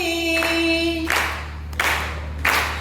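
Audience clapping at a Hindi poetry recital (kavi sammelan) in Kasganj, coming in three short bursts that rise over a sustained tonal drone and steady low hum.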